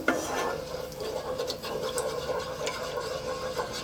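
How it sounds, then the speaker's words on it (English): Wooden spoon stirring a thickening milk sauce in a pan over low heat for moussaka, a steady rasping scrape and rub with soft repeated strokes close up. "And again, wooden spoon. Keep working it in on a nice low heat."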